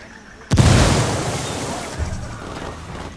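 A frag grenade detonates in Ghost Recon Wildlands, a sudden heavy boom after a brief quiet moment, followed by a long rumbling, debris-like wash that slowly fades.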